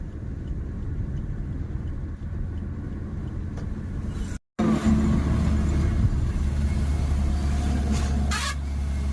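A car driving on a Pune highway, a continuous engine and road-noise rumble from inside the vehicle with a brief dropout midway, steady throughout.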